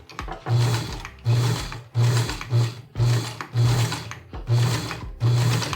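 Sewing machine backstitching the edges of a fabric surgical mask, its motor whirring in about eight short, even bursts with brief pauses between them, close and fairly loud, with no talking.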